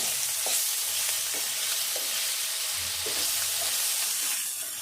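Chicken frying with ginger garlic paste for a Telangana chicken fry: steady close sizzle and hiss from the pan, with repeated scraping stirs of a spatula at an irregular rhythm, no voices.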